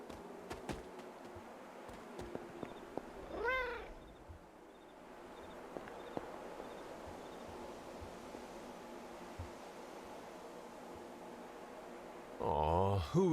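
A cat meows twice in Marvel's Midnight Suns, first a short wavering call early on and then a closer, louder meow at the very end, heard over a quiet game ambience with soft musical tones.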